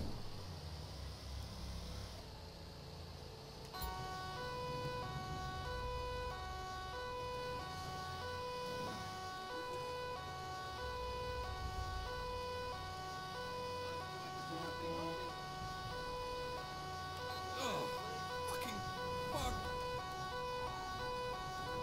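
A police car siren in GTA 5 wails continuously in a steady cycling tone over the in-game traffic and engine noise, with someone talking now and then.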